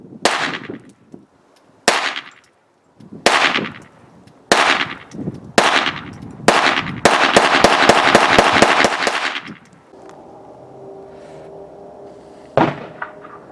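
Handgun fire during point shooting practice, loud and close: several single shots spaced a second or so apart, then a rapid string of shots, followed by a quieter pause and one last shot.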